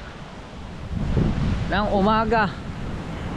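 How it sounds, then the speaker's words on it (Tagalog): Strong ocean waves breaking on the shore near a beach hut, a steady broadband wash with wind noise on the microphone, with someone talking over it partway through. "At malakas pa rin ang alon."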